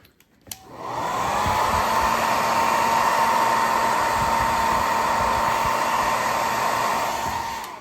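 A heat gun blows steadily on a MacBook Pro A1398 keyboard to soften it for removal, a loud continuous whooshing drone that starts after a brief click and holds evenly to the end.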